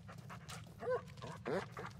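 Dog panting and giving short barks or whimpers in the horror video game Blair Witch, two louder bursts standing out over a steady low rumble of game ambience.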